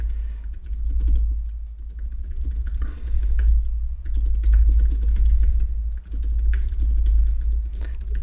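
Steady typing on a computer keyboard while writing code, a dense, continuous run of close keystrokes with brief pauses between bursts, no talk over it.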